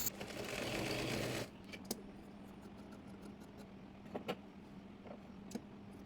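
Sewing machine stitching a fabric belt onto a petticoat, a steady whirring run for about a second and a half, then stopping, with a few scattered clicks and handling knocks afterward.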